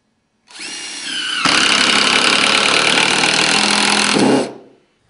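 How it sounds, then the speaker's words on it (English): A close, loud impact driver drives a FastenMaster Cortex concealed fastening screw into decking, spinning up briefly before a dense steady hammering rattle that lasts about three seconds and then winds down. "I'm using an impact driver."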